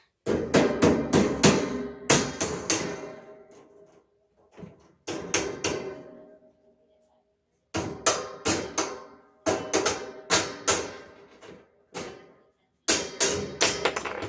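Sharp wooden knocks from a mallet's square edge, struck in quick bursts of several blows, with short pauses between groups, close and loud.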